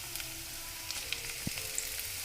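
Soaked moong dal stirred into a beetroot curry frying in a pan, giving a steady low sizzle with faint scraping stirs and a soft clink, close and quiet with no talking.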